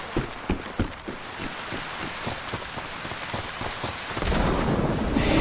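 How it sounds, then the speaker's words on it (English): Steady rain pours down during a thunderstorm in the survival video game DayZ, a dense continuous hiss with rumbling thunder swelling louder toward the end. No voices are heard. "Shit, that thunder just..."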